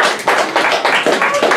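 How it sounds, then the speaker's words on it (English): Audience applause at a comedy hypnotist stage show, a short run of close, distinct claps in an uneven rhythm, loud and crisp, with some talking mixed in. "Give them a round of applause."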